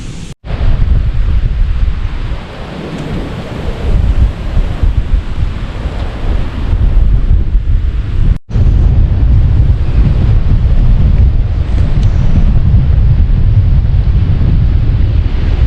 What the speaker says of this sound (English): With the wind this bad, this is like, I've been in North Shore and this is worse than that.